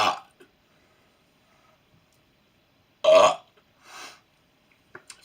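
Loud, close burps from a person in a kitchen beside a window during snowfall, two distinct belches separated by near silence, with small mouth clicks between.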